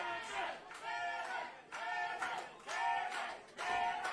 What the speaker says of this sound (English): Now you listen to the crowd here cheering on the Mason-Dixon line